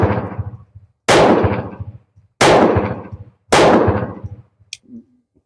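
Three loud, sharp gunshots from a surplus .32 pistol firing reloaded ammunition ring out about a second apart, each decaying with an echo, followed by faint metallic clicks of the action.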